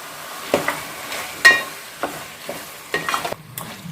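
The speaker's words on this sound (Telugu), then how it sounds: "చికెన్ని యాడ్ చేసుకుంటున్నాను" Chicken pieces stirred in hot oil with ginger-garlic paste for a chicken curry, heard as a soft sizzle broken by several distinct scraping stirs of a spoon across the pan.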